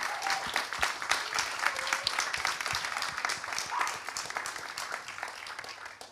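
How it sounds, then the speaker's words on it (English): An audience at a climate-focused panel session on greener cities applauds its panelists, a dense wash of many hands clapping at moderate volume that slowly thins toward the end, with no talking. "let's get a massive round of applause for our panelists who joined us today"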